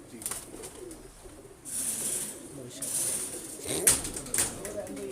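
Breeder's pigeons coo in low, soft, repeated calls, with people talking over them throughout.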